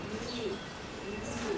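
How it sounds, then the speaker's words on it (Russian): Pigeons cooing up under a roof in a town in southern Spain, soft low throaty coos repeating a few times at a moderate distance over gentle background noise. "Вот там голуби живут наверху под крышей."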